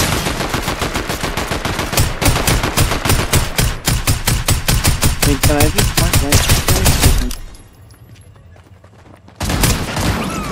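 Rapid bursts of automatic gunfire in the Fortnite video game, loud and dense for several seconds, a short quiet gap, then firing starts again.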